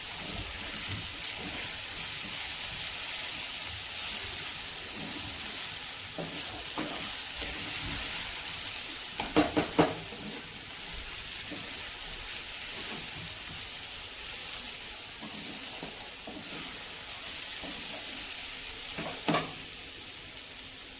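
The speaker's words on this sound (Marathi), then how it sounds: "त्यामध्ये आपल्याला थोडासा शेंगदाण्याचा कूट इथे घालून घ्यायचा आहे आणि ते मिक्स करून घ्यायचं आहे." Crushed peanut powder being stirred into a dry spinach and moong dal dish in a pan, a low continuous sizzle with soft scraping stirs and a few louder clattering strokes.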